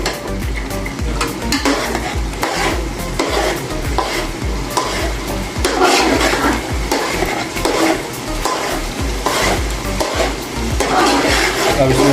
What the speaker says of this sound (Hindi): टमाटर को मैश करेंगे